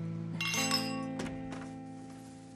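Drinking glasses clink together in a toast at a dinner table, with a bright ringing chime, then a couple more clinks whose tones ring on and fade gently.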